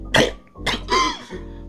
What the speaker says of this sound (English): cough up some blood